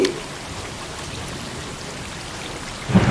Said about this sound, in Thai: ฝนกำลังตกอยู่ใช่ไหมคะ ใช่ค่ะ ฝนกำลังตก